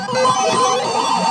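A loud, busy burst of layered electronic tones from the Super Pac-Man arcade game rings out as a short celebratory extra-life jingle.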